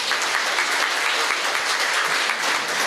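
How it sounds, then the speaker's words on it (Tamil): Steady applause from an audience at a teacher and student award ceremony, a dense, even roll of clapping that carries on without a break. "கரகோஷம் எழுந்தால் நன்றாக இருக்கும்."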